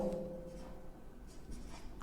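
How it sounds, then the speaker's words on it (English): Marker or chalk writing on a board during a biology lecture, a steady faint scratching stroke over a low room hum with no talk. "Let me write the name"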